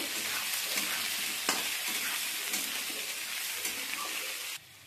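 Chopped tomato and green chillies with salt sizzle and fry in a pan, a steady hiss broken by occasional stirring scrapes, close and fairly quiet, ending with an abrupt drop in the sizzle.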